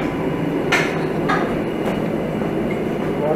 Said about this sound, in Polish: Stary pociąg, ale dostosowany.